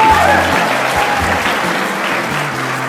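Keynote audience on generations breaking into loud, close applause, a dense steady wash of clapping that eases slightly toward the end, with a faint low hum underneath.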